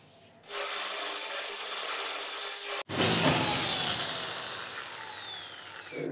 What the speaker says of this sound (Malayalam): ഇനിയിപ്പോൾ ഈ താഴത്തെ വരുന്ന ഭാഗം കൂടി അതുപോലെ തന്നെ കട്ട് ചെയ്യും.